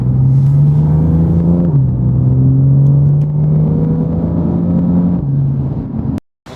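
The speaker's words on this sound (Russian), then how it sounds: "Просто обкатывать машину, чтобы она размялась после своей спячки." A BMW is driven gently around Rostov to loosen it up after a long layup. Its engine hums in a close, steady tone with small pitch shifts through gear changes, then cuts off briefly near the end.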